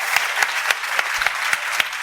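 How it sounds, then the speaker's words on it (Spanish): A small audience claps for the authors at a book presentation, a brief burst of steady, close applause with no voices over it. "aplauso a los escritores, por favor, a los autores"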